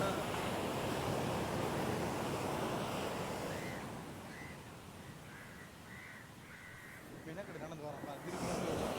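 Surf washing onto the shore at Maruthamunai, Kalmunai, a steady broadband rush that swells and eases, with crows cawing several times in the middle and people talking faintly nearby.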